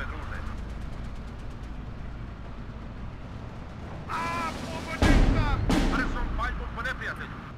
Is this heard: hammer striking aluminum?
no